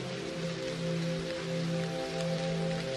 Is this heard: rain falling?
yes